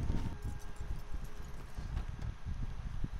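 Horse hooves clip-clopping on a road in Red Dead 2, a steady run of close, fairly loud hoofbeats in a quick rhythm with no voices over them.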